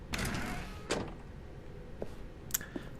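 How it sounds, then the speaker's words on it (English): A door in The Stanley Parable opens with a few sharp mechanical clunks and a sliding rush, followed by fainter knocks and a final click, heard up close and alone. "Stanley walked through the red door."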